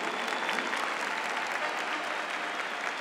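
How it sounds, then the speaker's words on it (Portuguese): A large audience at a Catholic preaching event applauds in a steady, dense roar of clapping, fairly distant and uniform throughout. "Pode aplaudir."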